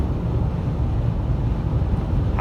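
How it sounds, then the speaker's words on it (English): Wind noise at the front pillar of a 2003 Audi A6 Quattro 3.0 V6 cruising on the highway, a steady low rushing roar of wind and road noise inside the cabin, constant and unbroken. "I am getting a little bit of wind noise up there at that pillar."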